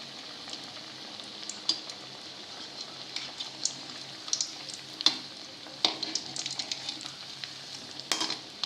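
A vegetable cutlet fries in a pan over a low flame, giving a steady close sizzle with scattered pops and crackles throughout.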